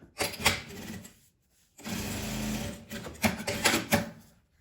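Sewing machine stitching fabric scraps into a coin-purse keychain, in several short whirring runs of varying length broken by pauses, close and fairly quiet.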